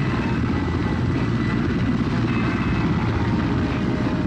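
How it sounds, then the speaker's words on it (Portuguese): Helicopters that delivered missiles fly off, leaving a steady, moderately loud rotor and engine drone that fills the whole stretch without breaks or speech. "Os helicópteros que trouxeram os mísseis vão embora."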